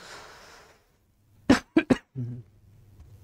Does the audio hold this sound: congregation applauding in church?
no